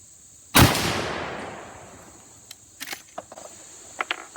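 A single sharp, loud rifle shot from a Henry side-loading rifle cracks at an outdoor range, its report decaying over about a second, followed by faint scattered clicks and handling noises.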